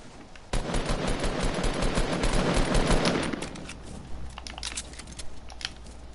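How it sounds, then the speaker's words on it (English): Rapid gunfire in Fortnite, a dense burst of automatic shots lasting about three seconds, followed by scattered sharper single cracks and clicks over a low background rumble. "I'm getting shot at."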